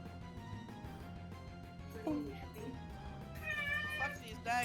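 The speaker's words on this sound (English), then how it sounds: "That was a cat." A cat meows a couple of times, short rising mewls over a busy mix of background music and people talking, with a louder call near the end.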